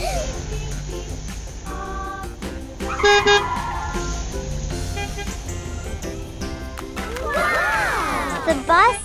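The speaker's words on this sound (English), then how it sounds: "The bus has arrived." An arriving bus gives a couple of short horn toots over steady traffic noise, with a voice and other speech heard around it.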